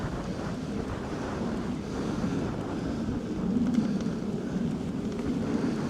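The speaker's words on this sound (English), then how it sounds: "I've got a headwind and all" Headwind while cycling on the EuroVelo 15 route produces constant loud, rumbling wind buffeting on the microphone that swells slightly partway through, with no voices.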